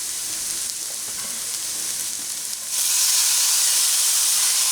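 Corned beef hash and garlic frying in a skillet, a steady broadband sizzle that swells louder and brighter about halfway through as the garlic hits the hot pan.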